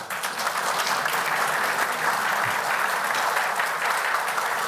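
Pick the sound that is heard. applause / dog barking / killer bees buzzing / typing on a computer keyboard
applause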